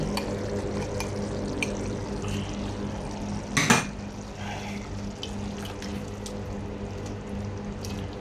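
Soup poured into a pan of chicken with mushrooms, a brief liquid splash and clatter rising out of a quiet kitchen background before fading back to a low hum.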